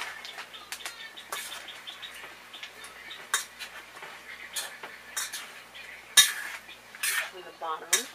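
Chicken wings being tossed and coated with Parmesan cheese in a bowl make soft, close clinks and scrapes of utensil against dish, with a few sharp taps and faint chirping in the background.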